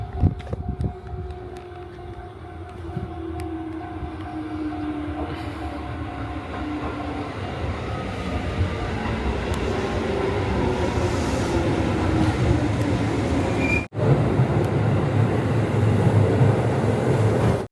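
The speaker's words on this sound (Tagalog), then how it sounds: "antayin tayo ng train dito." A train pulls into a station in Japan, its low rumble building steadily to a loud, continuous roar with a rising whine and a brief sharp clatter near the end, heard without any talking.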